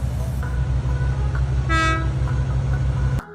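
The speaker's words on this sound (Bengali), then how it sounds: "উনি একটা হর্ন বাজিয়ে দিলেন" A train horn blasts once briefly over the loud, steady rumble of a moving train, with rhythmic wheel clatter throughout.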